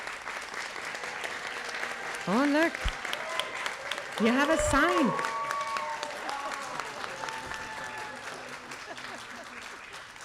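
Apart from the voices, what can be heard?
audience applause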